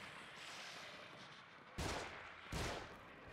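An enemy's gun fires in The Evil Within, two loud, sharp blasts about three-quarters of a second apart over a low ambient hum.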